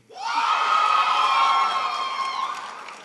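A lecture audience bursts into a loud, sustained cheer with whoops and shouting voices, swelling quickly, holding, then fading over a few seconds.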